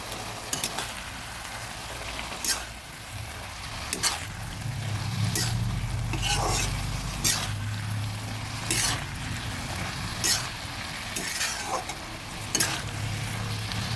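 Red spinach frying in a pan for a dry charchari, stirred at intervals; a soft, steady sizzle with repeated short scraping strokes every second or so, close and moderately quiet.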